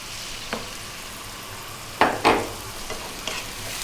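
Ginger and cabbage stir-fried with eggs over high heat, a steady low sizzle broken by a few sharp spatula scrapes and clinks against the pan.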